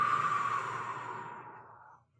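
A long, close breath out during a grip-strength exercise, a steady airy exhale that fades away over about two seconds, with no talk.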